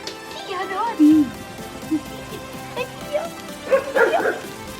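A dog barking and yipping indoors in short, high, excited bursts, mixed with a person talking nearby, with soft rain-like noise in the background.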